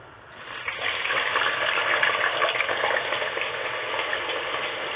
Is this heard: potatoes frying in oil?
yes